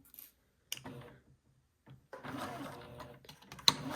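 A new domestic sewing machine locks in stitches on fabric, giving short bursts of fast mechanical stitching separated by pauses, close and fairly quiet, with a sharp click near the end.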